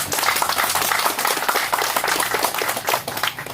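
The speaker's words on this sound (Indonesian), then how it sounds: "Kita memberi semangat kepada mereka dengan tepuk tangan kepada mereka." A crowd claps for children at a groundbreaking ceremony for a new Quran school building in a village, producing a dense, busy patter of many hands that stays loud and continuous throughout.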